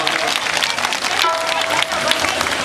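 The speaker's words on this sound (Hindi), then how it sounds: "ताली बजाएंगे।" An audience at a Hindu religious katha claps in a dense continuous burst, loud and close, with crowd voices mixed through the applause.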